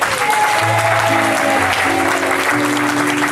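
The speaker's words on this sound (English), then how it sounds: "massive round of applause for the KADS" Audience applauds the KADS performers with loud, continuous clapping, while sustained musical tones play underneath the crowd noise.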